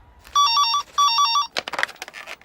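A telephone rings in two quick trilling bursts, each made of three short electronic pulses, followed by clattering handling noises.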